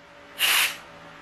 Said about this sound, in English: So let me just spray it